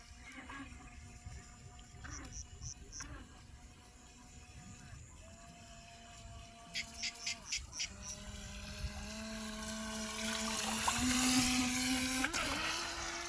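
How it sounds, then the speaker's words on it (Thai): A Flytec V009 radio-controlled jet boat's electric motor whines and revs in rising and falling pitch steps, with brief bursts and a louder surge near the end, and someone talking at times. "ได้ยินเสียงมอเตอร์เร่งไหมนะครับ"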